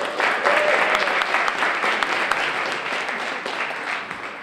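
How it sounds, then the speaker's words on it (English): Sustained audience applause at a poetry event honoring elder Mama Phyllis Lee, dense and steady from start to finish with some cheering voices mixed in. "Mama Phyllis Lee, another round of applause"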